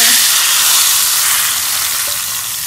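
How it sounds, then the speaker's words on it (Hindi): Hot ghee tempering with garlic, cumin and green chilies sizzles over a pot of mung dal, a steady loud hiss that slowly eases off, with no voices. "तो ये दाल पे जो है वो मैंने तड़का लगा लिया है।"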